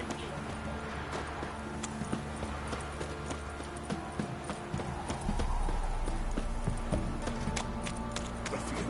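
Horse hooves clip-clopping in The Witcher 3: Wild Hunt, a steady close rhythm of hoofbeats over a low ambient bed, growing slightly louder toward the end.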